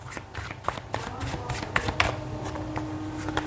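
Tarot cards are shuffled by hand in a rapid, continuous riffle of crisp papery flicks and taps, close and fairly loud, with no talking over it.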